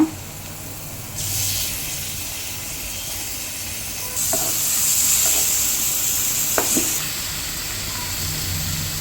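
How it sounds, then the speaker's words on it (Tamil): Dry vanjaram fish dropped into a pan of spiced gravy with chilli powder, sizzling and hissing steadily for several seconds, with a few faint clinks of a utensil partway through and no talking. "கருவாடு போட்டுடலாம்ப்பா."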